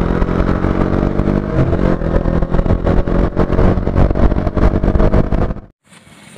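KTM Adventure 390 motorcycle at full throttle on a top-speed run, a loud continuous engine roar with heavy wind buffeting that holds for several seconds, then drops away abruptly into near quiet.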